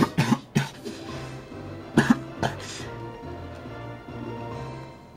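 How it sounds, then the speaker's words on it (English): Several harsh coughs in quick bursts near the start, with another cluster around two seconds, followed by quieter throat sounds and low background noise. "Great, I started coughing."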